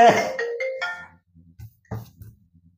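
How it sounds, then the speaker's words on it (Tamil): Mobile phone ringtone sounding a short melodic electronic phrase, loud and close, followed by quieter low blips and a few faint pulses. "போன் வருது."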